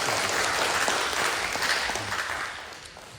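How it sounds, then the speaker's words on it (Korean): A church congregation applauds heartily after the choir sings during a worship service, a dense wash of clapping that stays loud before gradually tapering off over a few seconds, with no talking. "우리 박수로 하나님께 영광을 돌려드리겠습니다."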